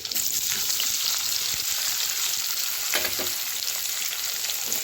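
Chopped onions and green chillies sizzle and fry in oil in a pan for poori masala, a steady loud hiss with a brief stirring scrape near the end, no talking.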